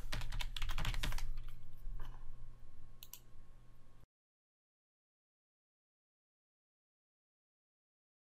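Fast, close clicking of keys on a computer keyboard as a username and password are typed, then a few scattered taps before the sound drops to silence.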